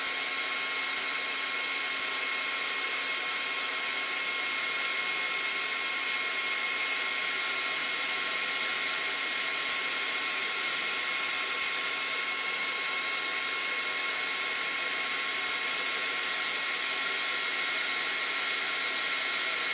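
A heat tool blows steadily and continuously while heat-setting a faux metal embellishment, a loud, even fan-driven whoosh close by, running alone without pause and with no talking.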